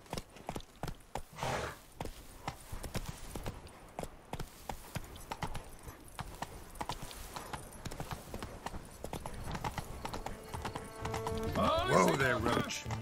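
Hooves of Roach, a horse in The Witcher 3: Blood and Wine, clip-clop in a steady rhythm, close and prominent, with a voice speaking and a whinny near the end.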